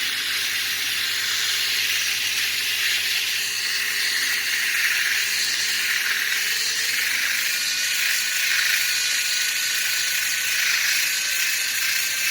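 Sandpaper held around a rusty brake caliper slide pin from a 1996 Jaguar XJR6 Supercharged while a power tool spins it, giving a continuous loud whirring hiss that holds steady throughout with no talking.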